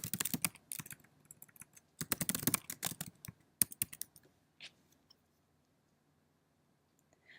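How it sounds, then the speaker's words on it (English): Keys clatter in quick bursts as a signature is typed on a computer keyboard for an online consent form, close and fairly quiet, falling to near silence with a few faint clicks at the end. "So we're going to choose to type the signature here."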